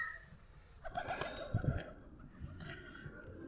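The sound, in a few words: pigeon cooing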